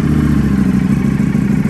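A 2022 Ducati Panigale V with an Akrapovic full titanium exhaust runs at a steady, loud, close idle, a deep throbbing rumble that holds level without a break.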